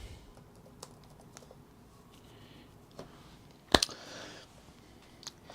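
Light, sparse taps on a computer keyboard as a reboot command is entered, with one sharper louder click near the middle, all faint and close against a quiet room.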